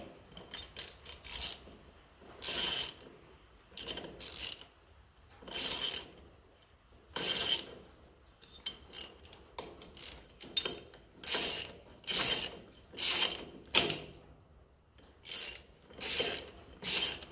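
A ratchet wrench snugs a fitting on a 1957 Ferguson FE35 TVO tractor's charging system, giving repeated short bursts of rapid metallic clicking with pauses between strokes, close and fairly quiet.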